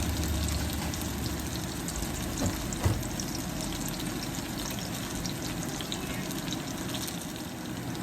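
Chopped onion and dried red chillies fry with cumin in hot oil for tomato rasam, a soft, even sizzle heard up close and fairly quiet, with faint stirring and no talking.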